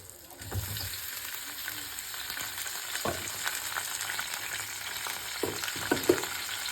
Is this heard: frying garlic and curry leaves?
yes